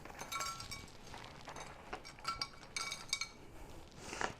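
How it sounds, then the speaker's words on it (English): Crushed ice tipped from a bag into a glass while mixing a piña colada, giving faint scattered clinks and rattles in irregular bursts, close and quiet, with no voices. "So we're going to put some crushed ice in here."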